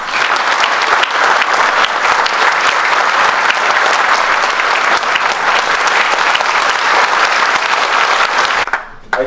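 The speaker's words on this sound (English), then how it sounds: "Can I request a round of applause for all of us?" Loud, sustained applause from an audience at a corporate HR roundtable, dense clapping held at full strength before stopping abruptly near the end.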